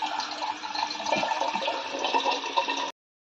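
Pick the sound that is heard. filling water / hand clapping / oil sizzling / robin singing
filling water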